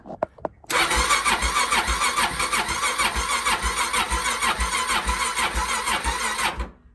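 A Suzuki DRZ400 motorcycle on a cold January day, with a weakening battery, has its starter motor crank loudly and rhythmically for about six seconds without the engine catching, preceded by a few sharp clicks.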